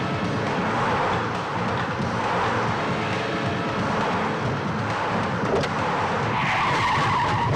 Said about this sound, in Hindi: ये नील की गाड़ी आ रही है।